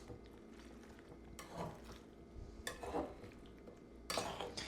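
Chicken and fries are tossed with barbecue sauce in a metal bowl or pan, producing soft scraping, clinking utensil and wet stirring sounds in a few quiet bursts, with no talking.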